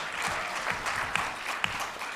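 Audience applause at a panel discussion, a quiet, steady patter of clapping with a few sharper individual claps standing out.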